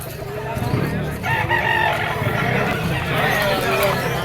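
A stag rooster crows amid a bustling pet market, the call rising over crowd babble and someone talking, with clucks and street noise around.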